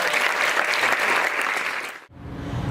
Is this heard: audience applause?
yes